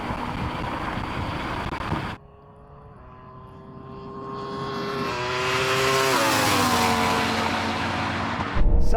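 A Ferrari SF90 in a drag race roars past, its engine tone climbing steadily in pitch as it accelerates and grows louder, heard from inside another car after a sudden drop in background noise, ending with a loud burst.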